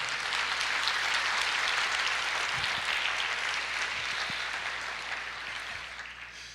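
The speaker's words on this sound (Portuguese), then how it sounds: "Pode aplaudir o Senhor." A large congregation at a church service applauds steadily and loudly, the clapping slowly fading toward the end.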